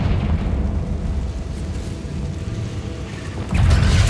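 In Hogwarts Legacy, a video game, a Confringo spell bursts into an explosion: a steady low rumble gives way near the end to a loud, sharp, close blast.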